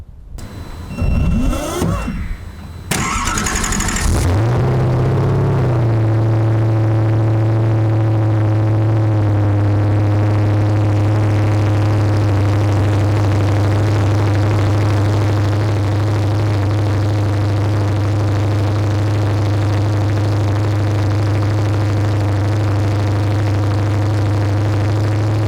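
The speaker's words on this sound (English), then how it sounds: "it's probably important to hear this insane engine start up" A Koenigsegg Agera RSN hypercar engine cranks with a brief starter whir, then catches into a loud, deep idle that holds steady and close for over twenty seconds.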